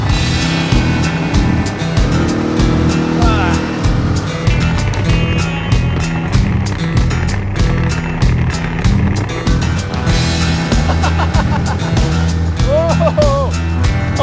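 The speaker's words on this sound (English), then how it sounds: "Now we're gonna hit a bit of rough roads. There you go, some gravel." A vehicle rattles and rumbles over a rough gravel road at Misibis Bay, a steady, close crunching and juddering with continuous bumping throughout, while a voice talks over it.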